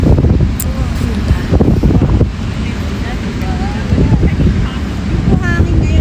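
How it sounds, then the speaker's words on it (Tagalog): Strong wind buffets the microphone at Bondi Beach, a steady loud rumble with surf washing in the background and some faint voices mixed in. "Yung hangin ngayon, parang solid siya."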